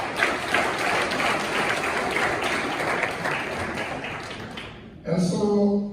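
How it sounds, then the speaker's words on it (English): Applause from an awards ceremony audience honouring young people at the Liberia Development Awards, a dense, steady clapping filling the hall for about five seconds before cutting off, followed by a brief voice. "I think we should give a very big hand of applause for our young"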